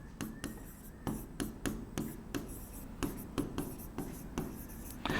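Pen or marker writing a chemical kinetics rate equation by hand in a Hindi-language 12th-grade chemistry lesson, a close series of short scratchy strokes and taps in an irregular rhythm, with no talking.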